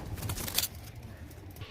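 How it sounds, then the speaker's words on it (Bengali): Pigeons in a loft are being released for flight: soft cooing and a brief flutter of wings sound close but quiet, with faint background noise. "এই পায়রা কটা আমি উড়িয়ে দিচ্ছি"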